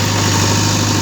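A Sonalika JCB engine idles close by in a steady, low, vibrating hum with an even rhythmic throb across the short stretch.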